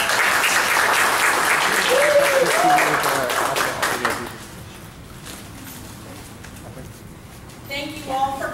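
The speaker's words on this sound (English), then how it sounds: "can you give a big round of applause for that?" Audience applause following a speech on depression, a loud burst of many people clapping that fades after about four seconds, leaving quiet room tone before a voice begins speaking.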